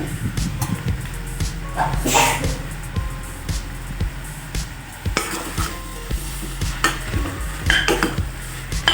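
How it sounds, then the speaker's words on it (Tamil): Mixed vegetables sautéing in a pan for kuruma, a low sizzle broken by scattered clanks and scrapes of a ladle against the pot, close by, with a faint dog bark in the background. "இப்போ இது ஒரு 2 நிமிஷம் நல்லா வதங்கட்டும்"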